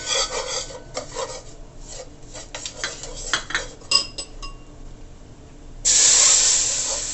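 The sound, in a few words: stirring curry in hot oil for Jamaican curry crab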